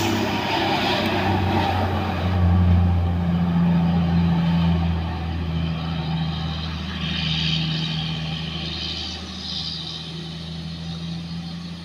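A heavy palm oil truck's engine drones and strains loudly while stalled on an uphill slope, a steady low rumble that swells and eases over several seconds with no voices.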